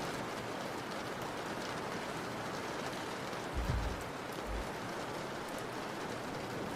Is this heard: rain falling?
yes